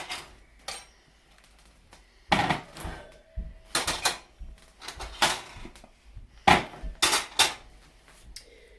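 Freshly baked sourdough loaves knocked out of metal baking pans: a few sharp knocks and clattering thumps of pans on a counter in a quiet kitchen, with pauses between.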